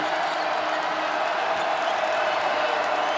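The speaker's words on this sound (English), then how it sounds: "Crowd on their feet, sensing momentum changing." A basketball crowd at a Kansas State women's game against West Virginia stands and cheers, a steady, loud wash of arena noise holding evenly from start to finish.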